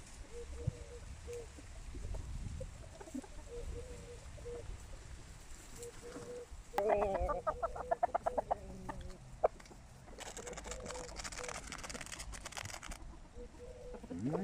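Several roosters, including Araucana, Basque and Legbar breeds, are heard together, with repeated clucks and a burst of crowing in the middle and a noisy flutter near the end, all in an outdoor yard with steady background noise.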